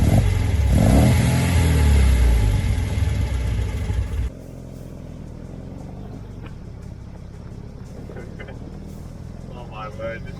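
An MGB sports car's engine roars and revs loudly during donut drifting for the first few seconds, then drops away to a quieter rumble while someone talks over it.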